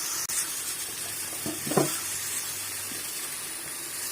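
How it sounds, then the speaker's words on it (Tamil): Small onions, garlic and ginger sautéing in a pan: a steady, quiet sizzle runs throughout, broken midway by a few brief scrapes of stirring. "சின்னதாக இருந்ததுனால ஒரு 20 சின்ன வெங்காயம் வதக்கிப்போம்"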